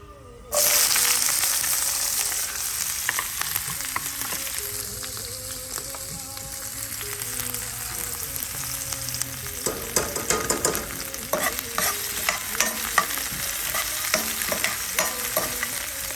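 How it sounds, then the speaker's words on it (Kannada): Onions and green chillies fry for uppittu, hissing and sizzling steadily in a pan while a spoon scrapes and stirs through them in irregular clatters, close and loud throughout. "ಇದಕ್ಕೆ ಉಳ್ಳಾಗಡ್ಡಿ, ಮೆಣಸಿನ್ಕಾಯಿ ಎಲ್ಲ ಹಾಕ್ಬಿಡ್ತೀನಿ."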